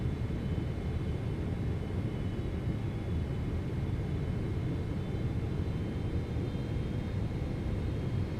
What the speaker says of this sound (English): We're ready to come in for the landing.